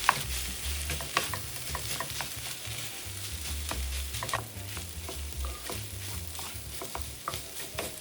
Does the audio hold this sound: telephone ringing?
no